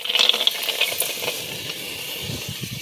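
Peanuts roasting in a pan give a steady dry sizzling hiss with scattered light rattles and scrapes as they are stirred, close and moderately quiet.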